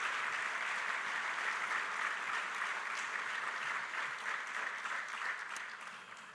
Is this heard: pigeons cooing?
no